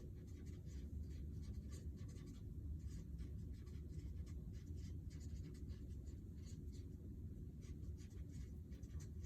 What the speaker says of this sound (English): So I want to go ahead and write that down